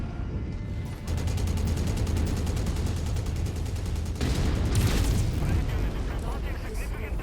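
Mech weapons fire in the Mechwarrior 5 video game, a steady dense barrage of booming shots and rapid bursts running throughout, growing heavier partway through, with a voice talking over it.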